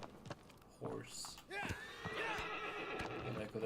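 A horse in the Shadow of the Colossus video game whinnies loudly with rising and falling calls, mixed with clip-clopping hoofbeats and game sounds, while a person talks over it.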